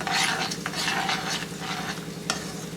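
Puliyogre paste stirred and frying over a low flame, with a steady soft sizzle and scraping spoon strokes against the pan, plus an occasional sharper clink of metal.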